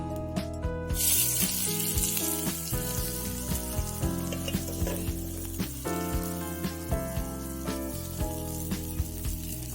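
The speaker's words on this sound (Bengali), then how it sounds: "এবার আমি কড়াইয়ে তেল দিয়ে দেবো, তেল দিয়েছি, পেঁয়াজটা দিয়ে দেবো।" Onions fry in oil in a wok, a soft, steady sizzle with scattered pops and taps beneath a layer of tonal background sound.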